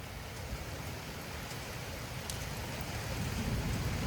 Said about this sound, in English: The rain's blowing kind of sideways